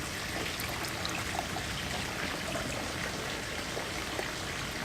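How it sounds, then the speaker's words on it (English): Fall Brewing Name Drop IPA poured into a cup gives a steady, soft liquid trickle and splash lasting several seconds, close and uninterrupted, with no talking. "You're pouring a beer."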